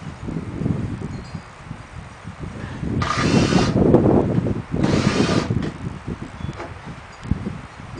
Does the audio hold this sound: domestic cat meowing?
no